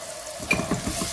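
Ginger paste frying in masala for a boneless chicken handi, heard as a short close burst of sizzling with a quick stir scraping through it, no voices.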